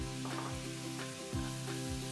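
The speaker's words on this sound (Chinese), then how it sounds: "把泡菜、泡椒下锅去炒，炒出香味之后，肉丝回锅。" Pickled vegetables and pickled chilies are stir-fried in a wok with garlic and ginger slices, producing a continuous close sizzle with stirring under steady background music.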